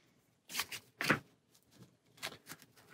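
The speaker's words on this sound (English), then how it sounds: "Shuffle in one more." Cards being shuffled during a solo game of the Dune Imperium board game, a few quick riffling bursts close by with short pauses between them.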